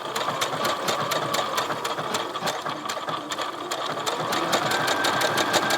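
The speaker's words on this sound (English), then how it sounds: "now that your shoulders are all pinned, what you're gonna do is you're gonna sew them on" A sewing machine stitches the shoulder seams of a cardigan, running steadily with a fast, regular mechanical chatter and clicking needle rhythm, close and continuous throughout with no talking.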